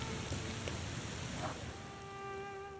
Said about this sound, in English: Oh, it's tad rainy.